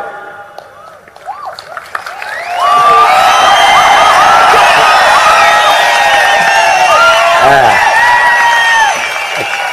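Large crowd at a political rally cheering, whooping and clapping, a sudden loud roar that swells after a quieter start and holds steady for several seconds, close and dense.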